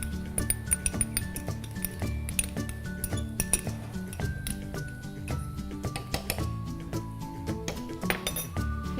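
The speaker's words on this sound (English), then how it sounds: "You give this a good stir." A metal spoon or spatula scrapes and clinks in a pan while stirring Schezwan fried rice with Schezwan sauce, steady rhythmic clattering over a continuous sizzling background, close and loud.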